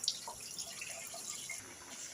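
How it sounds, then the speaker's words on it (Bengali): Water splashes and drips while a stone grinding slab is rinsed after grinding onion paste in a home kitchen, giving faint, scattered trickling and droplet sounds over a quiet background. "এখন আমি পাটাটা ধুয়ে নিব।"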